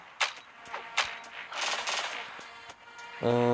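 A rapid-firing weapon in the video game Cyberika, shooting roughly every 0.3 seconds: a quick series of sharp electronic shots followed by a sustained tonal sound at the end, with no speech.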